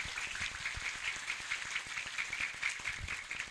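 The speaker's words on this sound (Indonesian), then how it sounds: "Tepuk tangan dulu untuk Al-Hidayah." Crowd applause at a live madrasah gathering in Madura, a dense, even patter of many clapping hands heard at moderate distance, continuous for a few seconds without talk.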